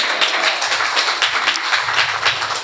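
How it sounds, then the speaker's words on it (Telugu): A church congregation claps hard and fast in unison, a loud, rhythmic burst of many hands with a low hum of voices underneath throughout. "చప్పట్లు కొట్టండి గట్టిగా"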